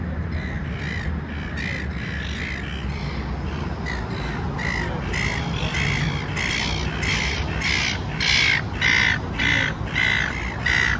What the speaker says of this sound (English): Oh, it's seagulls making the noise.